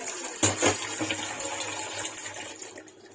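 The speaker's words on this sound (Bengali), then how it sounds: "আমি এই জলটা পুরোটাই দিয়ে দিলাম।" Water poured into a pot of khichuri, a steady splashing pour with a sharp onset, running for a few seconds near and fairly loud.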